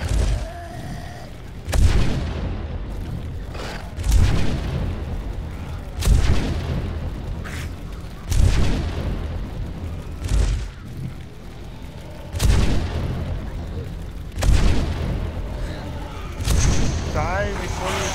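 Repeated booming blasts in the zombie survival game 7 Days to Die, as an enemy explodes; loud thuds recur every two seconds or so beneath ongoing talk.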